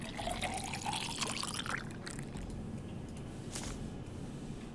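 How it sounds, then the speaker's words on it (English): Water bubbling and trickling in a chemistry apparatus inside a puzzle video game, a steady liquid burble with a few rising tones, no talk over it. "So we're basically boiling the water."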